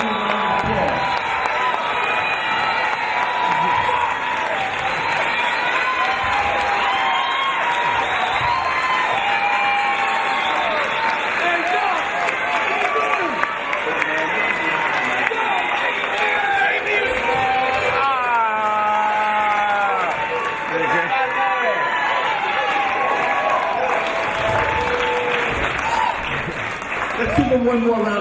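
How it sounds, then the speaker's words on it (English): A Brooklyn, New York crowd in 2014 gives Dr. Sebi long, loud applause, with cheers, whoops and shouted voices rising and falling throughout the sustained clapping. "So give him a round of applause."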